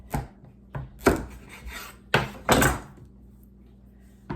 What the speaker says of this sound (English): now I'm slicing down through it to cut it in half